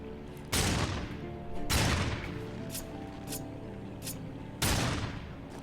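Gunfire in the video game Darksiders 2: a few loud, booming shots spaced a second or more apart, each ringing out and decaying, with some fainter bursts between them.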